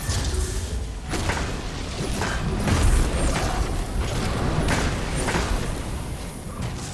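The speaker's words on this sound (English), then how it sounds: "I'm going to go ahead and rocket it since it's stationary." Rocket launcher fire and explosion in Destiny 2 against a stationary Champion in a Lost Sector, a dull boom and thuds over a continuous dense game mix with whooshes, peaking midway.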